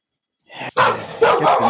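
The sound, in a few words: dogs barking in the house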